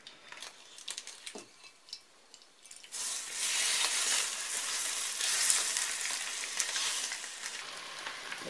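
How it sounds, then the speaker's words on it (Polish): Water bubbles and sizzles in a hot roasting pan holding pork loin, a loud steady crackling hiss that starts suddenly after quieter clinks and handling sounds. "Jak widać, jeszcze woda się gotuje."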